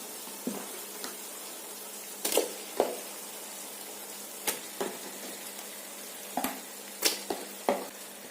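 Chicken added to a pan of sautéed onions and chili for Ambur biryani, giving short scattered bursts of stirring and sizzling over a quiet background, with no talking.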